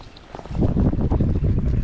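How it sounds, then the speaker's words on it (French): Wind gusting and buffeting against the microphone at a lake in Norway, rising after a quieter start and staying loud and rumbling throughout. "il y a du vent"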